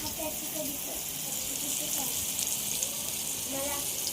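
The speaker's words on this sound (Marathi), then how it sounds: "सुंदर असे मासे फ्राय होतात आपले" Kupa fish frying crisp in a pan give off a continuous bright sizzle and hiss with small pops, heard close up while a person talks over the cooking.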